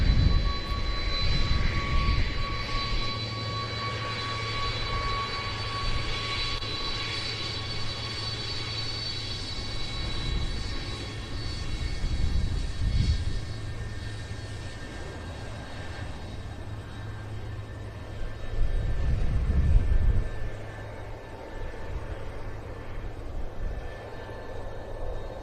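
An aircraft departs at the RIAT 2024 air show with a loud, sustained engine roar that swells and fades over about twenty-five seconds, heard from a distance outdoors.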